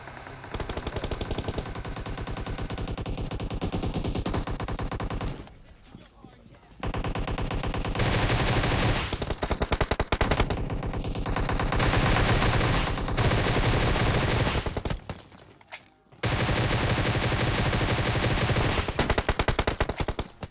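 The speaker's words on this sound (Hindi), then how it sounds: "मैं पीछे खड़े होके मारे जा रहा हूं गोलियां और इनको खबर तक नहीं है" Sustained automatic gunfire from PUBG Mobile in a solo-versus-squad match, loud and dense bursts of rapid shots with two brief pauses.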